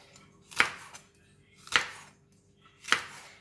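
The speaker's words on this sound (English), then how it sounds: "How we cut the okra is to just cut it slanting" Knife cutting okra on a slant against a board, three evenly spaced crisp chops about a second apart, close and quiet with nothing else heard.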